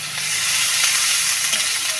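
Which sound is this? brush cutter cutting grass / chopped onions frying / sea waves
chopped onions frying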